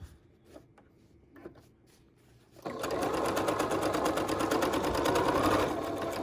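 A sewing machine runs a return stitch through fabric for a DIY filter mask, a few faint handling clicks first, then a loud steady rapid whir of stitching that carries on to the end.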